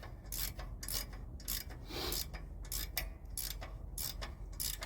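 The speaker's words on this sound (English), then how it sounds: "Luckily I have ratcheting wrenches." A ratcheting wrench worked on the rear end of a Ford F550 truck, giving a rapid rhythmic series of raspy clicks in repeated bursts, close and alone without speech.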